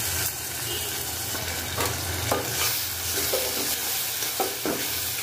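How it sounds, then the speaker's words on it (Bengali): Ginger-garlic paste masala stir-fried in a pan, a steady close sizzle with repeated scraping strokes of a spatula throughout, no voices. "মশলা এখন সুন্দর করে আমি এই যে কষিয়ে নিচ্ছি"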